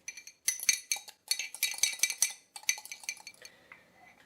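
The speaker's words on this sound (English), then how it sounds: "Just going to crack an egg in here to use as an egg wash." An egg cracked against a dish for egg wash while making sourdough cinnamon rolls gives a close series of sharp clinks and taps, with a few quieter knocks toward the end and no talking.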